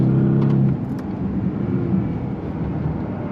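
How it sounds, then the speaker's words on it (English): A Bentley Continental GT Speed launching hard under launch control, a loud steady engine roar close by that drops slightly after the first moment and holds on, with no talk. "Launch control, on throttle, here we go, golly!"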